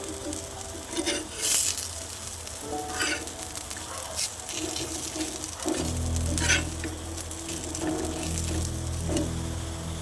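Slices of elephant foot yam fry in a pan with a steady close sizzle, joined by scraping stirs and occasional bright clinks, and the frying grows fuller and louder partway through.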